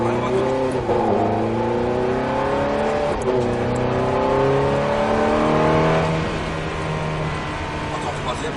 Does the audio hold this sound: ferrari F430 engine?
yes